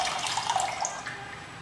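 Water pours into a pot of mutton for a white mutton korma, a steady, moderately faint splashing and trickling stream with no one talking.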